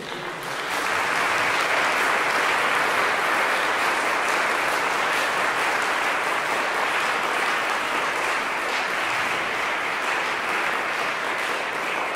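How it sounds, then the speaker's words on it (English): Sustained, dense applause from a concert audience at a conservatory faculty gala, steady and loud for several seconds with no talking over it. "give one more round of applause for all the performers tonight"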